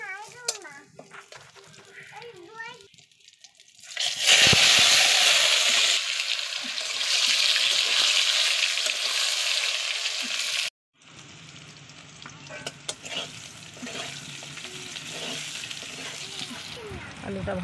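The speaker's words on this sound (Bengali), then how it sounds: "কড়াই গরম হয়ে গিয়েছে, এবার কড়াইয়ে দিয়ে দেবো মশলা কষি, পরিমাণ মতো একটু জিরে আর কটা তেজপাতা" Cumin seeds and bay leaves hit hot oil in a wok and erupt into a loud, close sizzle after some brief talk. The frying sound cuts out for a moment, then returns as a quieter, steady crackle.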